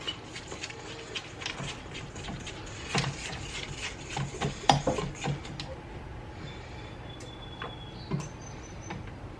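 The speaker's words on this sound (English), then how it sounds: "I'm just going to scrape this down." A spatula scrapes coffee cake batter, just mixed with an egg and vanilla, down the sides of a mixing bowl in a home kitchen, giving soft repeated rubbing and scuffing strokes close by with a few light taps.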